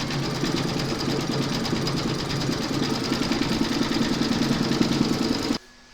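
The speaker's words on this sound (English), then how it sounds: "Load your thread colour for the swirls, the word love and coffee into your machine, and then you're going to stitch round number 7." An embroidery sewing machine stitches a coffee-themed placemat design with swirls and the word love, a steady, loud, fast-rhythmic mechanical whir running continuously alone, then stopping abruptly near the end.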